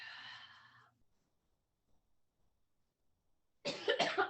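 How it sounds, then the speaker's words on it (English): A single short cough close by, followed by a quiet pause and then a second brief cough burst. "Or a cough like me."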